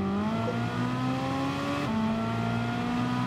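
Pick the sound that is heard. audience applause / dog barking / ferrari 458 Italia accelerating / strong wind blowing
ferrari 458 Italia accelerating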